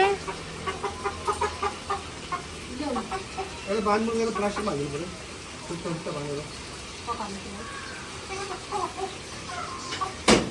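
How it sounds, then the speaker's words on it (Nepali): A rooster clucks and calls amid a busy outdoor scene, with voices and background noise running throughout. "यो हो भाले।"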